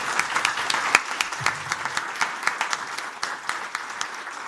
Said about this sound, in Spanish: Dele ese aplauso al Rey de Reyes y Señor de Señores.